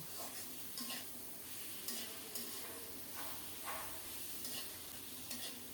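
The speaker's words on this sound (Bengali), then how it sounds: "এখন ভেজে রাখা আলু আর কাঁকরোল দিয়ে আরও কিছুক্ষণ কষিয়ে নেব" Fried potato and teasel gourd are stir-fried in spice paste, a continuous soft sizzle with repeated spatula strokes and light scrapes on the pan at an even, moderate level.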